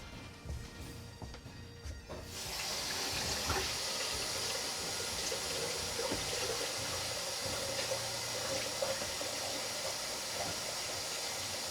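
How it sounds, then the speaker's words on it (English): Tap water runs steadily into a jar at a kitchen sink, starting abruptly after a quiet moment and then rushing on as a constant close hiss with no voices, for a drink made with apple cider vinegar. "it's just a matter of filling it up and stirring at the sink."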